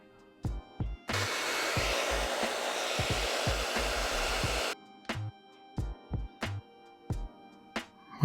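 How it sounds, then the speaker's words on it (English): A hair dryer switches on and blows with a steady broadband whoosh for several seconds, then cuts off; soft thumps and knocks sound before and after. "let me bring the blow dryer, or the hair dryer in this case"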